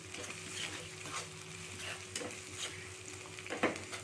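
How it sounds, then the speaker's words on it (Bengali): Soft sizzling from a pan of ginger, garlic and turmeric frying, with spoon scrapes and stirring clatters, a sharper clink near the end, no talking. "এটাকে আমি একটু ভেজে নিচ্ছি"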